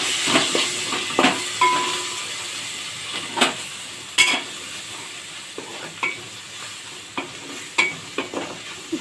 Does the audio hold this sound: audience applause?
no